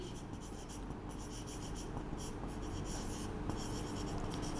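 A teacher writes notes during a chemistry lecture on rancidity, a steady scratchy scraping that runs without a break over a constant background hiss; no speech.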